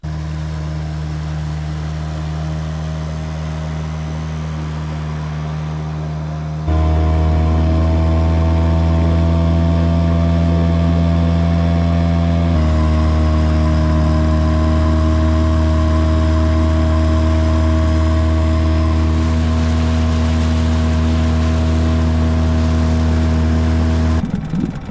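A small outboard motor drives a dinghy across an archipelago skerry area, a loud, continuous droning hum close by, with the pitch stepping up and back down as the throttle changes.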